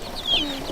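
Backyard chickens cluck softly and fairly close by in a short, low murmur, with a faint higher chirp rising briefly over a steady background.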